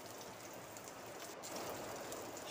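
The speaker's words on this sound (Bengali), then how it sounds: "লো আঁচে উচ্ছেগুলো ভাজতে হবে।" Stuffed bitter gourds fry in oil over low heat, giving a soft, even sizzle with fine crackling that carries on steadily and close by.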